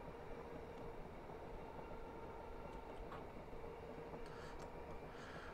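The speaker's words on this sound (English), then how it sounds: "That train, by the way, is number 2M30, also heading to Edinburgh Waverley." Train 2M30 bound for Edinburgh Waverley rumbles past in suburban Glasgow, a steady, dense low roar of rails and wagons holding at an even level throughout, with faint high squeals near the end.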